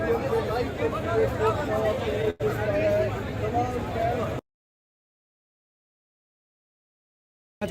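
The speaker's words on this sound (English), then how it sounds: "it has some incredible crowd reactions" Crowd at Arun Jaitley Stadium after an India versus Afghanistan cricket World Cup match, a dense murmur of many voices and chatter, steady and fairly loud for about four seconds before cutting to silence.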